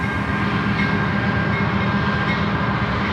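A train passes steadily through a small railroad town, a loud, continuous rumble of rolling cars with a faint metallic squeal, close by and unbroken throughout.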